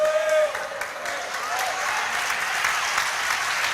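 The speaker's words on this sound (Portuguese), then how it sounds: "Forte esse aplauso ao Senhor" A church congregation claps in sustained, dense applause, loudest at the start and then holding steady, with faint voices and some tonal sound mixed underneath.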